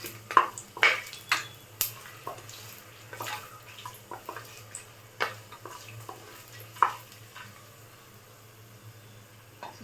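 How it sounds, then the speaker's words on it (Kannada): Whole spices such as cinnamon, cloves and bay leaf frying on low flame for fenugreek pulao, with a quiet steady sizzle and repeated sharp spoon clinks against the pan. "ಇದನ್ನೆಲ್ಲನೂ ಹಾಕ್ಕೊಂಡು ಫ್ರೈ ಮಾಡ್ಕೊಳ್ಳಿ ಲೋ ಫ್ಲೇಮಲ್ಲಿ ಇಟ್ಕೊಂಡು"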